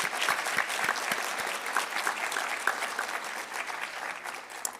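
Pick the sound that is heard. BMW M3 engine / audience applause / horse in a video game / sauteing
audience applause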